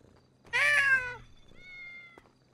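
A person imitates a cat's meows during a GTA 5 roleplay session: one loud, bright, falling meow, then a brief pause and a thinner, quieter, steadier second mew, both close and alone, with no talking.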